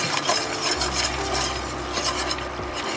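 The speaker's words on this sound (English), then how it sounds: "I am putting my 3/4 cup chili powder. Constantly stirring it." Chili powder stirred constantly into a thickening roux for enchilada casserole, steady scraping of a spoon or whisk against the pan over a low sizzle, with occasional light metal clinks, no voices.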